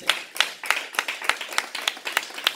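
Congregation clapping in rhythm during a French-language church service, about nine sharp, evenly spaced claps in under three seconds, close and fairly loud with no talk over them.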